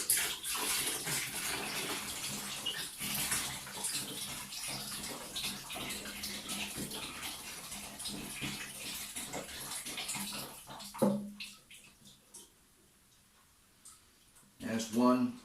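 A litre of purple grape juice pours into a batch of rhubarb wine, giving a continuous splashing gush that stops near the end, with a voice talking over it.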